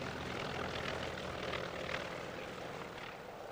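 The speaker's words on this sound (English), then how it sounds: "First off was the Wildcat, which first flew in 1937. It's accompanied by the bigger Hellcat." Grumman Wildcat and larger Hellcat piston-engine propeller fighters flying past at a 1999 British airshow, a continuous droning engine roar at moderate distance, fairly faint and steady throughout.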